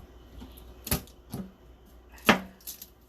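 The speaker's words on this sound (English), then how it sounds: "I just smash my garlic." A garlic clove is smashed on a kitchen board, giving a few sharp, close thuds spaced about a second apart, with one louder crack near the end and quiet between.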